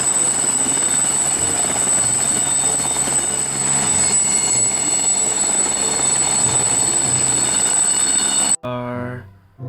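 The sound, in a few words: helicopter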